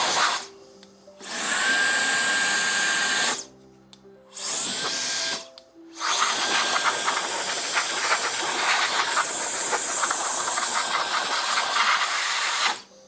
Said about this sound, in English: So I bought this little hand blower thing.